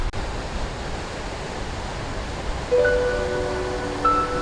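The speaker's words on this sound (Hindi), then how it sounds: "यहाँ से ये पानी ये देखें नीचे जा रहा है। ये वाटरफॉल ये यहाँ से जो आप देख रहे हैं," Waterfall at Wadi Namar, heard as a steady wash of falling water, moderately loud and continuous, with a few faint tonal chirps toward the end.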